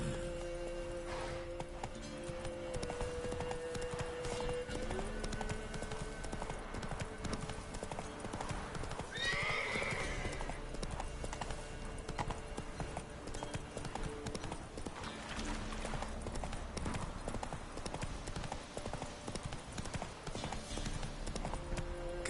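Horse hooves galloping at a steady clip-clop rhythm in The Witcher 3, continuous and close throughout, with a brief whinny midway and game ambience underneath.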